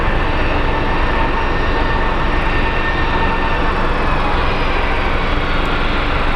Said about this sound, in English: we have a Delta A321 coming in from Atlanta. He is on final to runway 7 left